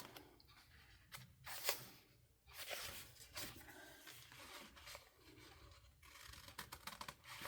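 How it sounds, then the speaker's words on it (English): Scissors snip around a cutout on paper in a small spring journal, a series of quiet, crisp clicks and rustles close by. "And I'm going to cut around it here."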